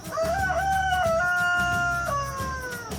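Laying hens clucking and crowing together while feeding, a busy chorus of fowl voices layered over a steady barnyard background.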